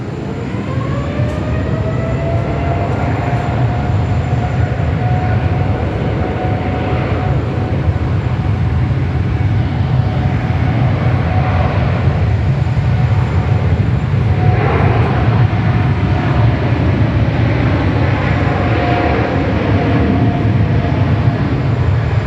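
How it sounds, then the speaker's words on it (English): An airliner bound for Santiago takes off at Sydney Airport, a sustained, loud engine roar with a rising whine that holds steady for over twenty seconds. "They've got their takeoff clearance sorted and they're ready to go."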